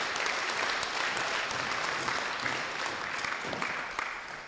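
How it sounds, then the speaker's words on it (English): Audience at a winter sports banquet applauding, dense steady clapping of a sizable crowd that holds for several seconds and fades slightly at the end. "let's give the Booster Club a round of applause for putting on a great meal."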